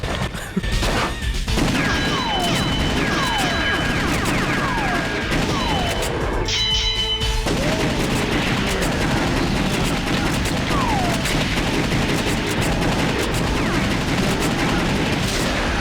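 Rapid gunshots fire almost without pause in The House of the Dead 2 shooting game, loud and continuous over busy game sound effects and music, with a brief voice in places.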